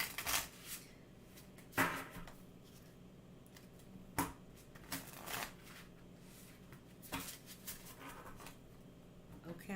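Tarot cards being shuffled by hand in a quiet room, a series of soft riffling bursts spaced a few seconds apart, fairly faint and close, with no talking.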